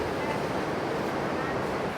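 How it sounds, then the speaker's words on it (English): Sea water surges and rushes in beneath a beachside dining spot at Uluwatu, Bali, a steady broadband wash of surf heard up close without pause. "There's the water kind of rushing in there."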